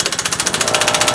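A small AC Delco air compressor motor runs close by with a loud, fast pulsing mechanical chug that repeats at a steady rhythm through the whole brief moment.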